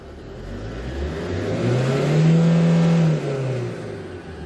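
A Kia Bongo III 1.2-ton diesel truck engine with a manual gearbox revs up from idle, the pitch climbing and holding a strong, loud drone for about a second before dropping back to idle.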